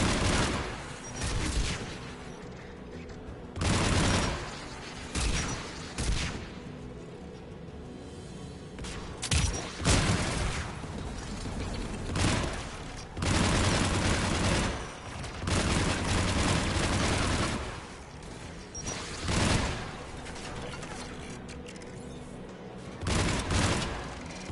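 Anti-aircraft guns in the video game Mass Effect 3 fire in dense, repeated bursts, heavy rattling volleys pounding close and loud with brief lulls between them, no voices.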